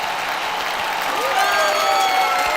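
Hand clap applause from a small audience at a live music stream, a continuous patter of clapping with a faint sustained tone in the background.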